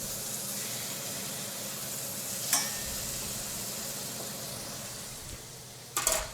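Flour-coated veal cutlets fry in a hot pan with a steady, close sizzle and hiss, broken by a couple of brief utensil clinks; no voices.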